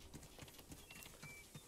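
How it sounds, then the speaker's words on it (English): Horse hooves clip-clopping in the game Realm Royale, a faint regular series of soft hoof beats at an even trot, distant and quiet, with no talking over them. "I hear horses."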